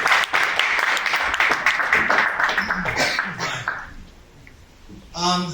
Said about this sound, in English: please give a round of applause to Mr. Professor David Pelletier